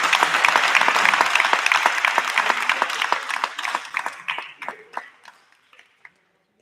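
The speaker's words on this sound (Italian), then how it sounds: "Bravo, un applauso Gabriele" An audience at a futsal club's team presentation applauds in a lively burst of clapping that gradually thins to scattered claps and dies away into silence.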